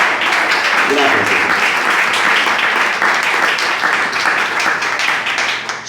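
A church congregation applauds during a sermon: loud, dense clapping from many people for about six seconds, with a voice speaking over it, tapering slightly at the end.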